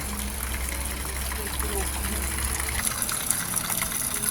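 Steady rushing water from a spring flows and splashes continuously, loud and close, like a stream pouring out, in the Balkans, with faint voices in the background.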